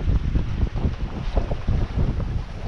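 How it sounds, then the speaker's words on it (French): Strong gusting wind buffets the microphone on a sailboat under sail in the Strait of Bonifacio at dawn, a continuous roaring rush with waves and the hull moving underneath. "toujours du vent"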